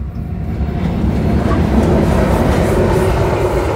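A Burlington Northern train is pushed up a steep grade, giving a loud, continuous, heavy rumble of rail cars and engines close by that holds steady throughout.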